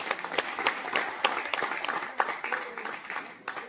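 Outdoor audience at a poetry recitation during a Rath Yatra festival breaks into scattered applause; individual claps stand out sharply in an uneven, irregular patter, moderately loud.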